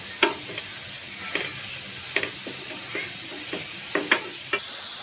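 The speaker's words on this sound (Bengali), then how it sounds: "শুকানো না পর্যন্ত এভাবে নেড়ে ছেড়ে গাজরটাকে ভেজে নিতে হবে।" Grated carrots fry in a pan while being stirred, with a soft continuous sizzle broken by sharp, regularly spaced scraping strokes of the spoon, close and alone.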